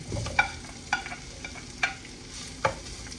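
Ginger and onion hit hot oil in a pan while cooking chicken tinola, giving a steady close sizzle broken by several sharp taps of a utensil as the pieces are stirred.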